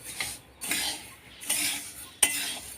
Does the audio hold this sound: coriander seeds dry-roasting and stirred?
yes